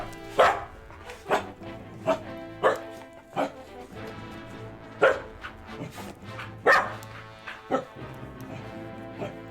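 A dog barks in the video game Triangle Strategy, about a dozen loud, close woofs coming in irregular bursts, with some whimpering tones between them.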